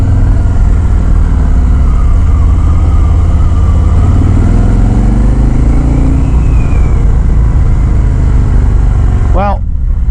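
A 2019 Harley-Davidson Road King Special rumbles on a test ride with a loud, low engine drone that rises and falls in pitch as it accelerates, heavy wind noise over it, ending in a brief sharp sound.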